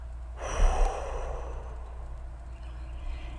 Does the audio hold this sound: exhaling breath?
yes